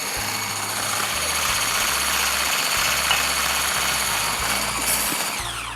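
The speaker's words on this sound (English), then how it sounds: "We will use this whisker to whisk the mashed potatoes" A power mixer whips mashed potatoes with a steady high-pitched motor whine and a whirring buzz, continuous and close, with no talking.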